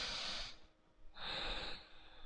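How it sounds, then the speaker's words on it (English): A person demonstrates shallow breathing with two quick, airy breaths through the nose, each a short hissing rush, close to the microphone with a brief pause between them. "when you start breathing shallow, that's what it happens when you go like this."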